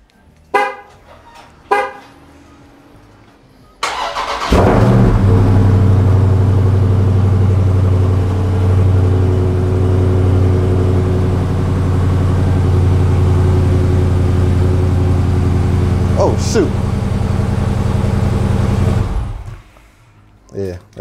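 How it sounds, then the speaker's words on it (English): A 2020 Dodge Charger Scat Pack starts with a sudden burst, then holds a loud, steady, close engine roar for about fifteen seconds before cutting off. A few short sounds come before the engine starts and after it stops. "The 2020 Dodge Charger Scat Pack."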